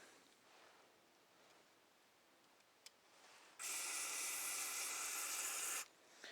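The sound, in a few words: spraying cleaner through Tecumseh carburetor needle and seat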